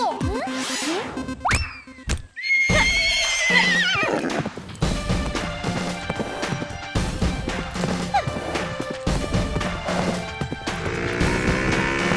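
A horse in a comedy sitcom scene neighs loudly in a long rising-and-falling whinny, with clip-clop hoof beats, thumps and crashing knocks around it in a busy, close mix.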